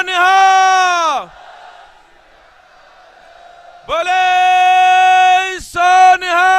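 At the farmers' protest at the Singu border, a loud amplified voice leads a Sikh slogan. The crowd answers with a fainter, diffuse roar, then the leader's shouting returns.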